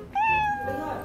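A cat meows in a cat-raising video game, one drawn-out, rising then falling meow that is loud and close, with a second softer call at the end and a speaker's voice faintly underneath.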